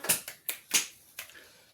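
A few sharp hand claps, about five, spaced irregularly over under two seconds, close and moderately loud with no other sound between them.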